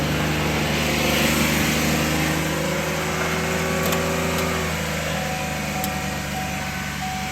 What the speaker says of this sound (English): Now this doesn't sound like it's idling, because I stuck a pipe between the seat and the gas pedal.